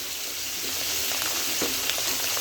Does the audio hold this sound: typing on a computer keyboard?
no